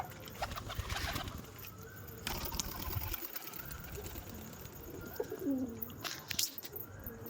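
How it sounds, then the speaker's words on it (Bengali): Pigeons coo in low repeated rolls around a house where a pair of high-flying birds circles overhead, over a steady mechanical whirr and outdoor background noise. "ওই যে হাইটের পায়রা দুটো সড়ক করছে, এই যে বাড়ির উপরেই।"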